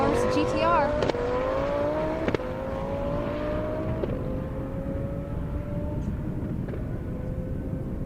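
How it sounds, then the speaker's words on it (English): A Lamborghini and a Nissan GTR Nismo launch in a half-mile drag race on an airstrip. Engines rise in pitch through several gear changes, then hold a long, steady, fading drone, with crowd noise around them. "Lambo versus GTR"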